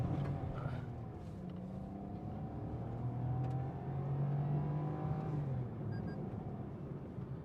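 A Toyota Taisor's engine hums steadily from inside the car at highway speed, its pitch rising gently as it accelerates and then easing off, with a constant road and wind roar underneath.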